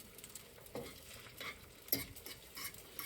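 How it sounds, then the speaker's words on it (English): Soft scraping of a fork stirring scrambled eggs in a hot cast iron skillet, with a gentle sizzle underneath and a few light metallic taps. "And I'm stirring it around with my fork."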